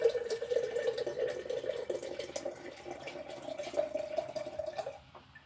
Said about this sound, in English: Right now I'm just pouring water into the jar